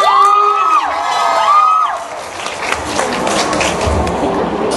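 A concert crowd cheers and applauds for a male performer being welcomed on stage at a Thai pop show, a loud wash of cheering and clapping that follows two rising sung or shouted tones near the start.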